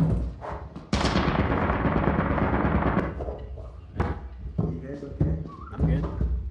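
Turret firing in the video game Lethal Company: a sudden loud sustained burst of rapid gunfire lasting about two seconds, followed by scattered thumps and players talking.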